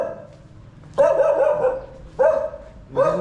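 Dog barking in a residential street of Thao Dien, Saigon: three loud, close bursts of barks about a second apart, each with a yelping, whining tail.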